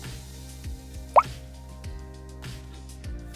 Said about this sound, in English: and a splash of vanilla extract